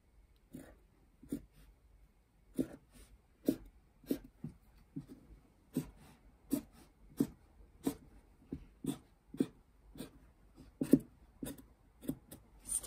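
A marker drawing stitch lines on a costume patch, heard as a steady series of short, close scratchy strokes in a regular rhythm with brief pauses between them, alone and fairly quiet.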